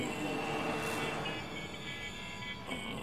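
A train in the video game Batman: Arkham City gives a continuous low rumble of rolling carriages with faint metallic squeals and hiss layered on top, steady and fairly quiet, with no talking.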